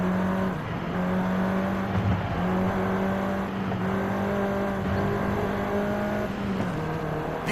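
A Volkswagen Golf R, the seventh-generation hot hatch, hums and revs steadily in Forza Horizon 5, its engine tone holding a sustained drone with small pitch shifts, close and continuous with no talk.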